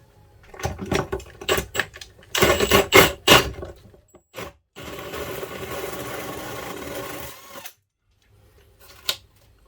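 A hole saw bores into OSB to enlarge an existing hole, the drill whirring in several short bursts followed by a longer steady run and quiet gaps between.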